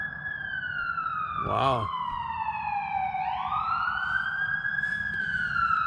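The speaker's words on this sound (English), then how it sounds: "You can hear the siren." Police siren wailing steadily with a rising and falling pitch, heard at a moderate distance outdoors over low background noise; a person briefly exclaims partway through.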